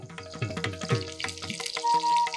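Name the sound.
mustard seeds, cumin and curry leaves sizzling in hot oil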